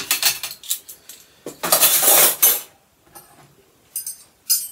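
Metal spoons clink and clatter as they are handled and set down together beside a tin can, in a few quick bursts of bright chinking with short pauses between, close and fairly loud.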